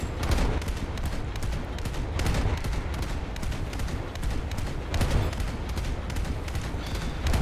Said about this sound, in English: Luckily 40 mils basically just have infinite ammo, so you can just keep shooting them